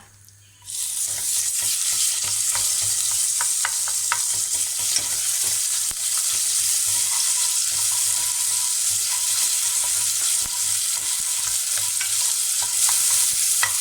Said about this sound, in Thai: เราจะมาคั่วไก่ของเรานะคะ